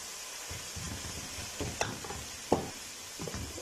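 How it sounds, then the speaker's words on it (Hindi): Tomatoes frying in a wok while being stirred, a faint steady sizzle broken by soft scraping strokes and a couple of sharp taps from the utensil. "साथ में डाल देंगे कड़े में टमाटर डाल कर। टमाटर हमारे सॉफ्ट हो चुके हैं।"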